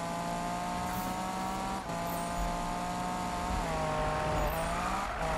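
A Ford Mustang drives through traffic in Need for Speed, its engine giving a steady, moderately loud tone that shifts pitch with revs, with no talking.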